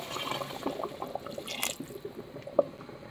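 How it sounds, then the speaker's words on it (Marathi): Water being poured into a pan of mackerel curry in a home kitchen, a soft splashing trickle with a few light drips and one sharper plop, fairly faint and close. "इतकं पाणी घालून घ्यायचं."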